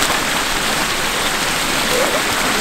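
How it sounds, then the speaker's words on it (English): Steady light rain patters continuously in Paris in autumn, a soft broadband hiss with no breaks and no voices. "It's kind of raining, it's sprinkling"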